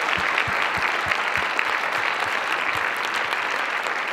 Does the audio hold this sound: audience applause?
yes